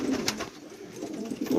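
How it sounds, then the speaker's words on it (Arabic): Domestic pigeons, a mixed flock of around 42 birds including black Abbasi pigeons, coo softly in a low repeating murmur, steady and close, with no one talking. "شباب الحمام هاي 42 طير"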